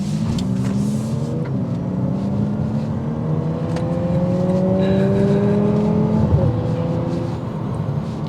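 A 2023 Lexus UX 250h F Sport hybrid accelerating in Sport S mode, heard from inside the cabin as a steady engine drone whose pitch climbs across a gear change and then rises again, loud and continuous.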